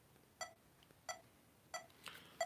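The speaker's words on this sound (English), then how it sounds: "if you hear the beeping of a metronome, that is symbolizing the beat of a song" Metronome beeping the beat during acoustic guitar practice: faint, evenly spaced electronic beeps, one roughly every two thirds of a second, alone in a quiet room.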